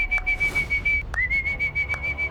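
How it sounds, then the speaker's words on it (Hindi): A person whistles one steady high sustained tone, breaks it briefly, then resumes the same clear note, loud and close, over a low background rumble. "और वो सीटी बजा रहा है।"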